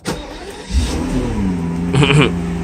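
A Mercedes S600 with 25,000 miles runs on a cold start, its engine holding a steady high idle with a brief rev rise near the end, close and loud throughout.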